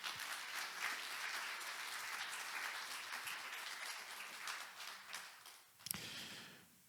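Enthusiastic clapping from a church congregation during a service, steady and full, with a sharp knock near the end as it tapers off.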